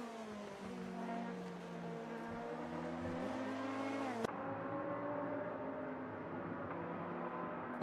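LMP2 race car easing through the Dunlop chicane, its engine note holding steady then dropping as it slows, heard fairly quietly over track ambience with a brief sharp click midway and no talk.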